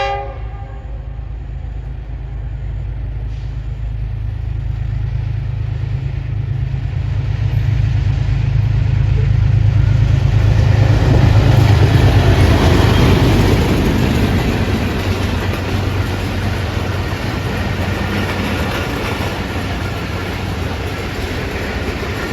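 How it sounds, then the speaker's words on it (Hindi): Subah Khiram Express 103 Up, running Lahore to Rawalpindi in Pakistan, passes at evening with a steady low rumble and wheel clatter that builds to a loud peak at mid-clip, then eases off while still close. "103 अप सुबह खराम एक्सप्रेस दोपहर 4:30 बजे निकली है जी लाहौर से"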